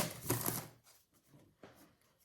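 Tarot cards being shuffled, a loud riffling burst at the start followed by softer, intermittent card handling with a second brief riffle near the end, close and alone.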